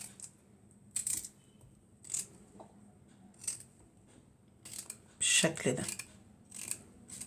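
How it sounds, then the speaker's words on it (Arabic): A small beetroot being cut into small pieces, a series of crisp knife chops spaced irregularly, with someone speaking briefly during the cutting. "بتقطعي البنجرايه بالشكل ده"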